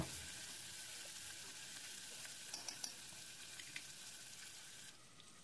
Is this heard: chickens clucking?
no